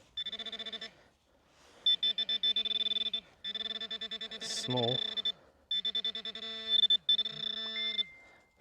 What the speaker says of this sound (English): Phone is going off.